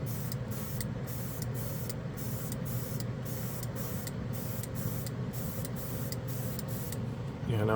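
A can of chrome spray paint hisses steadily close by as a coat goes onto a model part, with a continuous spray broken by brief, evenly spaced pauses in the nozzle.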